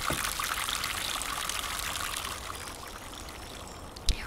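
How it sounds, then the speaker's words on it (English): Water flowing in the Bear Simulator video game, a continuous bright hiss of a stream or trickle, steady and fairly loud, with a short knock near the end. "Water."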